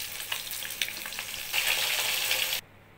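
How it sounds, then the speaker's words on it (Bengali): Turmeric- and salt-rubbed katla fish pieces frying in hot oil, a close, dense crackling sizzle that swells louder midway, then stops abruptly near the end, leaving quiet. "তেল গরম হয়ে গেছে, মাছগুলো ভেজে নিচ্ছি।"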